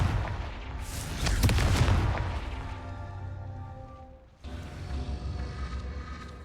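A Confringo fire blast spell from Hogwarts Legacy goes off with a heavy booming burst that swells and fades away, followed by a second, lower rumbling blast.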